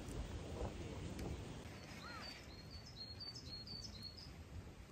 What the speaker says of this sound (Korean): 처음 들어보는 새소리야.